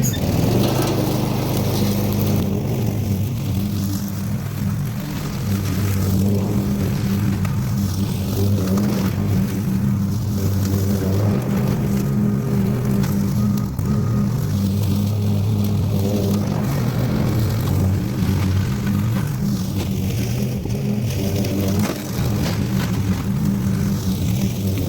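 A lawn mower engine drones loudly and close by while mowing grass, a continuous rumbling roar with slight rises and dips in pitch as the load shifts, running alone throughout.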